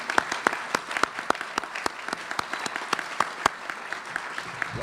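The crowd at the Wake Tech Building F groundbreaking ceremony claps continuously, with many distinct sharp hand claps standing out over a steady bed of applause at moderate volume.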